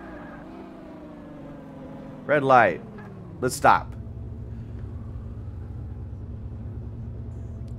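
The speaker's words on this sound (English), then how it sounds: "Why does it sound like I'm driving an F1 car?" A taxi engine in the Taxi Simulator video game, sounding like an F1 car, drones low and steady throughout, with two short, sharp revving surges in the middle, under a voice talking.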